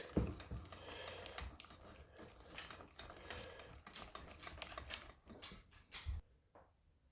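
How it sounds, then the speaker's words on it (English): Chocolate chip cookie batter whisked by hand with a wire whisk in a bowl, a steady run of quick, close scraping and tapping strokes that thins out and fades near the end. "So we're just going old-fashioned with a whisk"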